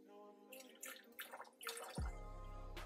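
Lukewarm water runs steadily from a tap into a kitchen sink with dripping and splashing, and the stream grows louder and fuller partway through.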